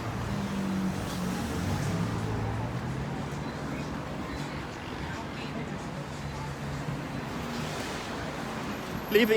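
Road traffic rolls along the East Bank Public Road in Guyana near the Demerara Harbour Bridge, making a continuous, even rumble of passing vehicles with no distinct horns or bursts.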